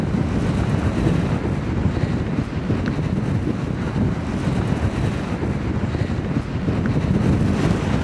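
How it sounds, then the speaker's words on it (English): Exceptionally strong wind on Pendle Hill in the Forest of Bowland, England, buffets the camera microphone with constant loud low rumbling and gusty roaring, no voices. "It is exceptionally windy."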